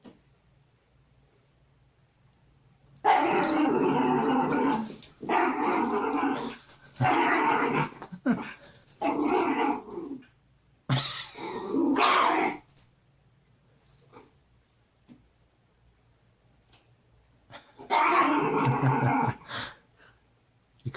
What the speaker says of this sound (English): You crazy dogs. You're entertaining.